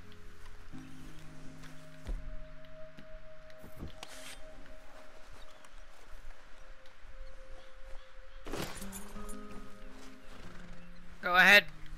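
A horse in Red Dead Redemption 2 snorts and whinnies amid steady game ambience, with hooves clopping and a louder neigh near the end.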